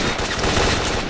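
Bursts of AK-74 rifle fire in the video game S.T.A.L.K.E.R. Shadow of Chernobyl, a dense, loud flurry of close shots running together over about a second.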